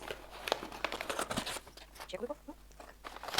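Kraft paper crinkles and tears in short bursts while a birthday gift is unwrapped, close and moderately loud, mixed with voices and laughter.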